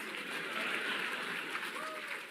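A convention audience at PAX Prime 2015 claps in steady, sustained applause heard from within the hall, a dense wash of hands without distinct individual claps.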